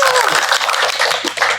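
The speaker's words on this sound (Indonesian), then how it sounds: "Beri tepuk tangan" Clapping for three guest accounting teachers on a vocational school podcast, a short burst of many hands at close range with a voice briefly audible at the start.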